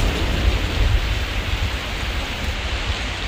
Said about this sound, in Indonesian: Gerimis sedari tadi menjelma menjadi hujan yang sangat deras.